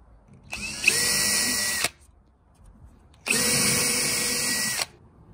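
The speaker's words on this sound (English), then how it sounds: "what you're going to want to do is drill 2 holes side by side" A power drill whirs through plywood in two sustained bursts, each lasting over a second, separated by a short quiet pause; close and loud.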